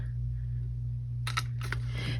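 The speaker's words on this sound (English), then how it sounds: "we're just going to use a regular hole punch" A regular hand hole punch cutting through old cookbook pages: after a quiet stretch over a low hum come a few sharp, close mechanical clicks and crunches.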